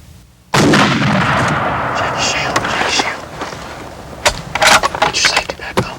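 A single loud, sharp rifle shot cracks out at close range during a whitetail deer hunt in a field, then rolls away as people talk quietly.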